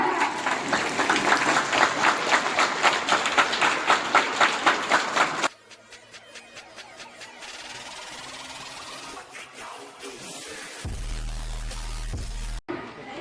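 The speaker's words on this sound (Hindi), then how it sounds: "और सर को प्लीज तो जोरदार तालियां।" Schoolchildren at a senior secondary school give a wildlife rescuer a loud, rhythmic round of clapping that breaks off abruptly partway through. Quieter room noise and scattered sounds follow, along with a brief low hum near the end.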